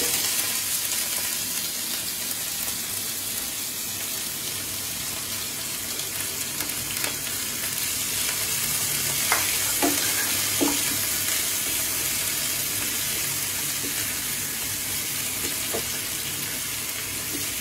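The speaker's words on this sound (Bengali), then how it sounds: "এবার দিয়ে দিচ্ছি আমি পেঁয়াজ কুচি" Chopped onions fry in a pan for cauliflower bharta, a constant close hiss of sizzling with a few light knocks and stirs, no one speaking.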